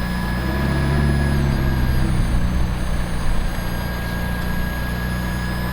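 A wrecked McLaren 675LT sports car runs with a loud, steady engine drone and deep low rumble, close by, with a brief rise in revs partway through.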